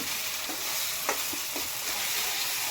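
Ginger-garlic paste sizzles steadily in hot oil for a fish curry, a dense continuous hiss with a few soft scraping stirs, close and without voices.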